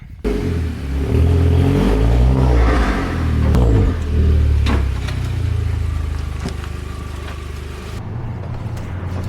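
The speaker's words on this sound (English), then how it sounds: "let's get this car out." A big-turbo all-wheel-drive Volkswagen Golf GTI engine revs loudly and close, climbing and falling through several pulls before settling to a steady idle-like drone.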